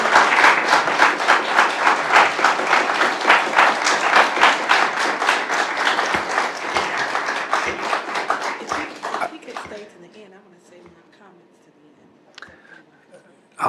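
An audience claps at a board of education meeting: loud, dense applause for about nine seconds, then fading into a few scattered claps and quiet murmuring.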